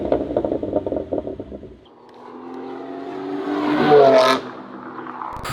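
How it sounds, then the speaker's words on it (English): A BMW G87 M2 with a Turner exhaust in M2 mode and third gear rumbles in a choppy burble, then the engine note swells in a rising rev before cutting off abruptly, loud and close. "and now you'll get all the burbles"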